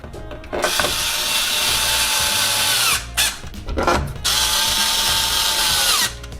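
A power screwdriver drives screws into the stand legs of a budget Linden 55-inch 4K UHD LED TV, two long loud whirring runs separated by a brief pause, up close and with no talking.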